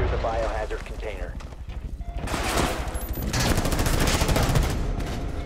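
Rapid gunfire in Rainbow Six Siege, dense bursts of shots rising to a sustained loud volley, with team voices talking over it.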